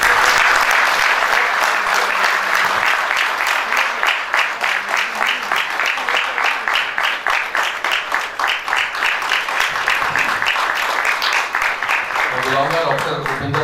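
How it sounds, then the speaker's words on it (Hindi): An audience at a book launch event applauds steadily and loudly for the whole stretch, dense clapping from a crowd indoors with a voice briefly heard over it near the end. "हम सब तालियां बजाएं"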